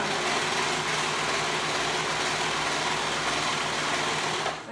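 A sewing machine runs continuously at steady speed, a dense whirring buzz close by, easing slightly at the very end.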